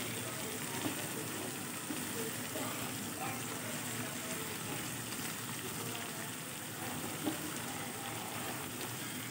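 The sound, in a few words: spice paste frying in oil with salt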